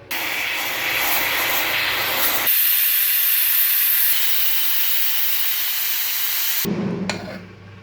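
A pressure cooker on a stove cooking spinach dal lets off a loud, sustained steam whistle that hisses on for several seconds before cutting out abruptly, with no voices.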